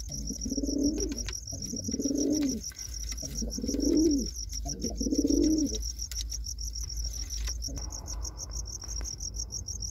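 Pigeons coo in four soft, rolling bouts close by, while crickets chirp steadily and high in the background throughout.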